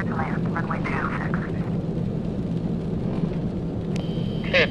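A Cubana Ilyushin IL-96 airliner arriving at Paris-Orly produces a steady, moderately loud engine rumble and rushing roar throughout, with faint radio chatter in the background.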